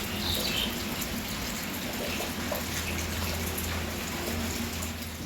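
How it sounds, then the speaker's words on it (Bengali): Heavy rain falling steadily outdoors, a dense, constant hiss of water with a low rumble beneath, even and unbroken throughout with no voices. "এত জোরে বৃষ্টি পড়তেছে"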